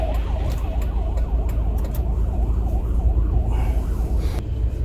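An ambulance siren wails in a rising-and-falling pattern as it passes, with road traffic rumbling underneath.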